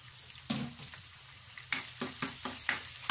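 Chopped garlic dropped into hot cooking oil for Filipino spaghetti sauce, sizzling and crackling faintly while being stirred, with a few soft scraping strokes.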